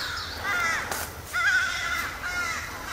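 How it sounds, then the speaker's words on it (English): Crows cawing in an open wilderness meadow with big trees, several harsh raspy calls repeating at moderate distance over a faint outdoor background, no talking. "The crows are part of the soundtrack around here. Seems like they talk a lot."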